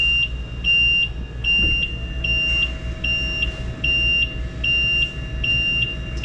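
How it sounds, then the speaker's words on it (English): A repeating electronic warning beep sounds as a boat's mechanical bimini top is raised, with short high beeps in a steady rhythm over a low, constant hum. "that beep happens for up and down and for the engine room"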